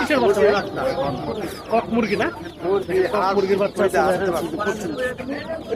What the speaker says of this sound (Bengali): দেখেন প্রচুর হাঁসের বাচ্চা মুরগির বাচ্চা